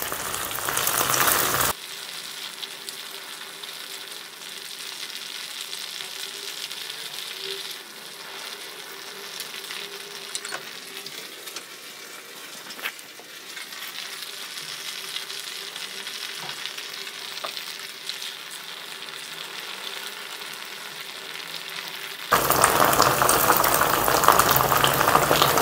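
Dirty cooking oil fries and bubbles in a pan over a high flame while a spoon stirs it now and then, giving a steady soft sizzle with faint scraping, framed by louder noise at the start and end.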